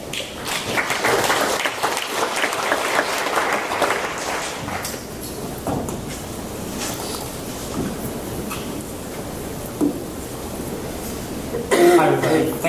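Audience applause welcomes a speaker at a global health residency training event, loud clapping filling the first few seconds, then thinning into scattered claps and rustling with a brief burst near the end.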